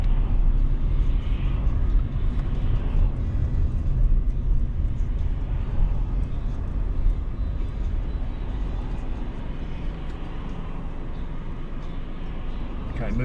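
Car moving off in traffic on a driving test route through West Wickham, giving a steady low engine and road rumble throughout with a voice talking over it.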